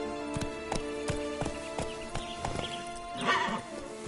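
Horse in the video game Witcher 3 galloping with steady clip-clop hoofbeats, then giving a loud whinnying neigh near the end, over a faint game music bed.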